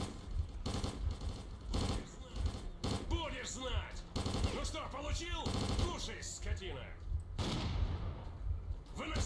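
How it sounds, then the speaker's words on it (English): Shotgun blasts in the 2008 video game S.T.A.L.K.E.R. Clear Sky: rapid, loud repeated shots in bursts, mixed with other gunfire and a voice talking through the action. "shotgun ain't gonna do nothing at this range"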